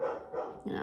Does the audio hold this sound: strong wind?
no